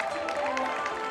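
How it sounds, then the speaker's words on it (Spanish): Applause from a crowd at a night running race as a runner crosses the finish line, a steady wash of clapping heard under a public-address announcer and a high tonal whine. "Venga, esos aplausos arriba"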